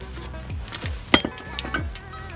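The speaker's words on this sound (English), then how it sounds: "Then you can pull out this brake caliper and take off the old brake pads right here." Metal parts clink and scrape as a brake caliper and worn pads are pulled off the front wheel of an Audi A4, with a few sharp metallic knocks, close and brief, no talking.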